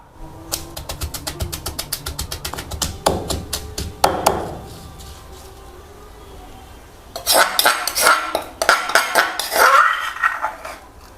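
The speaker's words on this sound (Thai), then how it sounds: "ตามด้วยกระเทียมครึ่งถ้วยตวง อันนี้โขลกหยาบ" Garlic pounded coarsely in a mortar, rapid regular pestle thuds in a steady run, a pause, then another fast burst of sharp knocks, close and loud.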